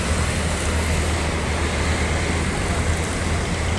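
Buses roll along a busy Indonesian highway during post-Lebaran return traffic, a continuous heavy roadway roar with a low engine drone and no distinct breaks.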